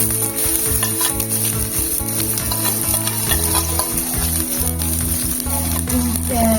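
Crushed shallots fry in a pan for Kerala-style rasam, producing a loud, continuous sizzle with stirring over faint tonal background sound.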